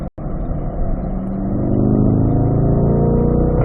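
A C8 Corvette engine pulls hard in 4th gear on a track heading into a banked bowl, a loud, close, rising roar with climbing harmonics after a very brief dropout at the start.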